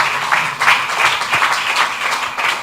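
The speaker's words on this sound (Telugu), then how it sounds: "చప్పట్లు కొడతాం గట్టిగా" A church congregation at a special prayer service claps together in a fast, rhythmic burst of loud, close, repeated hand claps.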